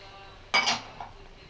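A spoon clinks sharply against a pot while rice is stirred together with raisins and almonds: one bright metallic strike followed by a softer scrape, close and otherwise quiet.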